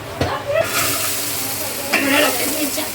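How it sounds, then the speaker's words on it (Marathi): Vegetables crackle and hiss as they fry in hot ghee, with occasional scraping from stirring and faint voices in the background. "आता भाजी फोडणीला घालत आहे भाजीमध्ये पहिले साजूक तूप साजूक तूप टाकायचं"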